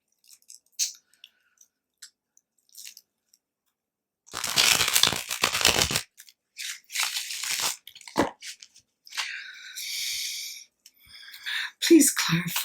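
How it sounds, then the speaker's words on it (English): Tarot cards shuffled by hand, a dense papery riffling burst lasting under two seconds, followed by scattered shorter card flicks and soft handling noises, close and fairly quiet with no talking. "One last shuffle on screen for Virgo."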